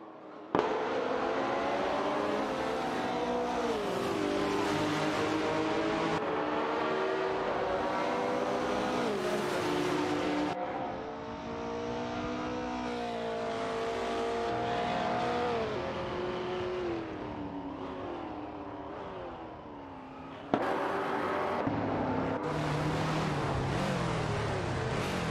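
Several race cars in a racing video game drone and whine continuously, engine pitch rising and falling with gear shifts, a dense overlapping roar with abrupt cuts between camera views.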